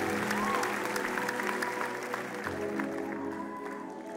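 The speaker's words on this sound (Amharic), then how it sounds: "አጨብጭቡ ለጌታ ክብር" A church congregation at an Ethiopian Pentecostal service applauding in praise, a dense, sustained roar of many clapping hands that gradually softens toward the end.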